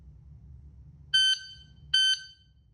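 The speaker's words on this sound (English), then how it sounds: "press the start button, and it'll give you 2 beeps" Two sharp electronic beeps from a shot timer, evenly spaced under a second apart, ring out loud and clear over a low background hum.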